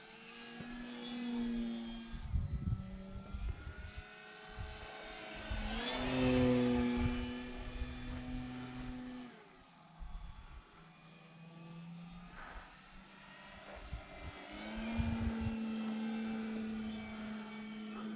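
FMS Big Pitts V2 radio-controlled model biplane flying on a clear day, its engine drone rising and falling in pitch as it passes and turns, moderately distant with wind noise.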